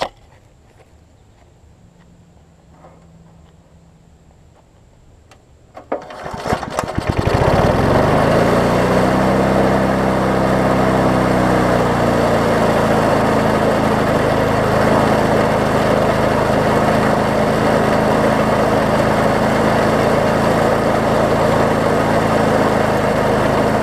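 An old Garden Pride lawn mower's small engine starts after a few seconds of quiet and then runs steadily and loudly, holding a close, even drone to the end.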